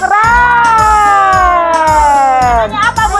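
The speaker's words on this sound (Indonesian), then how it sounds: "Suara kucing tuh." A cat at an animal park gives loud, drawn-out wavering meows, one long cry sliding downward and a shorter call near the end, close and dominant with no talk.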